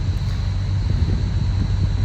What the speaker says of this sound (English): our 635, which you should be able to hear it idling over my shoulder right here